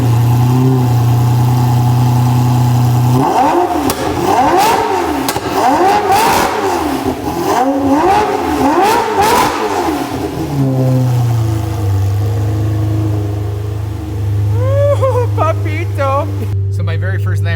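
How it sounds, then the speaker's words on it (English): A Lamborghini Murcielago LP640 with a Kriesig exhaust makes a loud, close cold start, then gives a run of sharp revs that rise and fall before it settles into a deep idle. "It's a cold start with a Kriesig exhaust."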